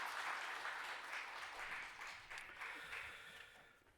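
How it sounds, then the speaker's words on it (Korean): A church congregation applauds during a Sunday morning worship service in Busan, steady clapping that fills the room and gradually fades. "박수로 격려하겠습니다"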